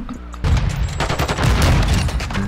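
Video game sniper fire rings out as a rapid run of loud gunshot bursts with heavy low booms, continuing across the whole stretch without any talking.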